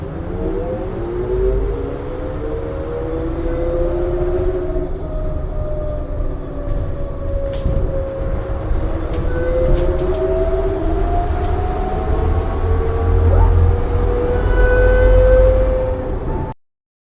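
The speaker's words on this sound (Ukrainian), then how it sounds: "Тролейбус." A trolleybus drives past, its electric motor whine rising and falling in steady gliding tones over continuous rolling road noise, close and fairly loud throughout before cutting off at the end.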